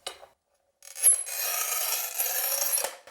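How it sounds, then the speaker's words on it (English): A floor tile is scored with a manual tile cutter: a short click, then a steady dry scraping rasp lasting about two seconds as the blade runs across the glazed surface, close and moderately loud. "I'm going to place the tile in here and just make sure it's square right here, and then I'm going to score it across"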